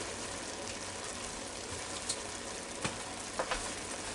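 Meat searing in a Ninja Foodi pot, a steady moderate sizzle with a few louder crackles and pops.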